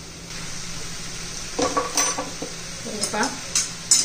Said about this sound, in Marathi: चांगलं तेलामध्ये परतून घ्यायचे हे केळाचे काप 2-3 मिनिट